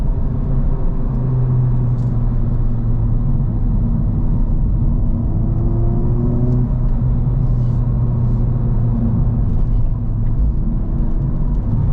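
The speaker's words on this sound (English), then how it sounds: "Oh, I love the rev matching downshifts." Honda Civic Type R engine heard from the cabin, its steady droning rumble rising and falling through rev-matched downshifts with light road noise, no talk.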